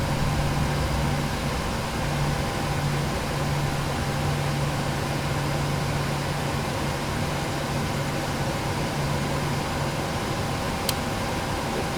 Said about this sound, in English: you should hear the engine cut out, switches reset themselves, and the engine should stabilize